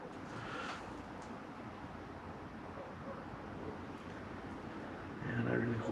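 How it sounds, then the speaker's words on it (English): Chilly outdoor wind gusting from the side, a steady broadband rush close on the microphone that swells louder near the end, with a voice present. "Got that wind just kind of coming right on from the side"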